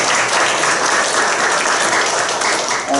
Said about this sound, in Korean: 우리 제자의 제자, 제자의 후배인 영상 제작자들에게 큰 박수 다시 한번 부탁드립니다.